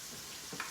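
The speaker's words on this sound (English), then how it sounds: "And so that's stir frying." Hot peppers stir-frying in a pan give a continuous close hiss of sizzling oil, with a faint stirring scrape near the end of a very short moment.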